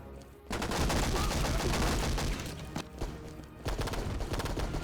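Heavy automatic gunfire in the PC game Enter the Matrix, loud sustained volleys of shots with brief gaps, dense and close throughout.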